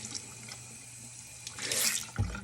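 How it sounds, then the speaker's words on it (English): Tap water runs into a sink over a makeup sponge, a steady close splashing flow that swells louder near the end, with no voices. "So run it under some water until it doubles in size."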